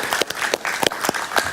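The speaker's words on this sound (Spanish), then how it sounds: "Un aplauso para él" Studio audience applause greets a guest arriving on a television interview programme, a close, lively burst of many hands clapping with sharp individual claps standing out, steady for the whole span.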